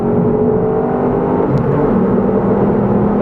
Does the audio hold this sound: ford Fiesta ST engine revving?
yes